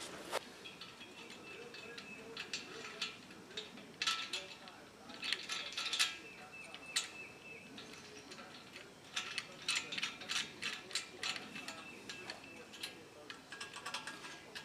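Small Allen head screws are fitted into the mounting bracket of a vehicle LED light bar, giving a scattered series of light metallic clicks and ticks, close and fairly faint, in irregular bursts over a quiet background.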